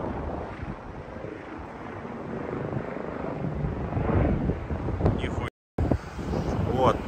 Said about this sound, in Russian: Вертолет!